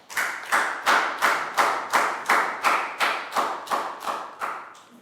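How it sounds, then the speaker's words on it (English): A primary school class claps together in a slow, even rhythm, about a dozen loud unison claps evenly spaced, each with a short ring-out. "High five and a big round of applause for Pangpon."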